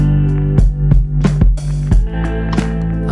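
Bass line heavily distorted with the Cymatics Diablo Lite plugin, producing a loud, gritty, buzzing low tone with several punchy repeated hits in an uneven rhythm.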